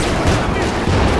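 Machine gun fire in the multiplayer strategy game Company of Heroes 2, a dense, continuous rattle of gunfire and battle noise packed tightly into a short, loud burst.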